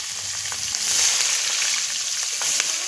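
Slit green chillies sizzle in hot oil for a curry, a steady close hiss of frying with faint crackles throughout, no voices.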